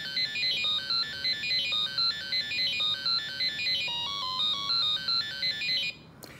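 The electronic Dungeons and Dragons computer labyrinth board game plays its winning tune, a bright beeping melody of rapid repeated electronic tones lasting about six seconds before cutting off, close and alone.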